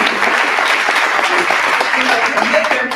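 A luncheon audience breaks into dense, sustained applause, many hands clapping at once in a room, loud and continuous with no talk.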